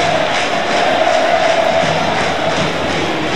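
A football crowd roars in the stadium during Ferroviária against Novorizontino, a continuous wash of cheering from thousands of fans filling the arena at a loud, even level.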